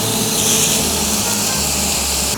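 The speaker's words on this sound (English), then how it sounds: "In your hot pan, put in your bacon." Bacon sizzling in a hot pan, a loud, continuous, close crackling hiss with fine popping, steady throughout with no talking.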